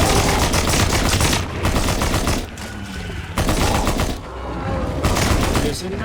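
Rapid bursts of heavy automatic gunfire from a big gun in a video game set in the Nether, loud and close, firing in several sustained volleys separated by short pauses.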